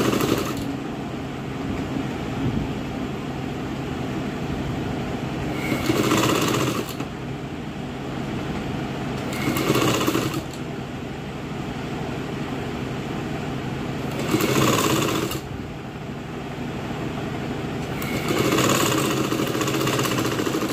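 Sewing machine stitching a frill onto a dress, a continuous mechanical hum broken by four louder bursts of fast stitching spaced a few seconds apart, with no speech.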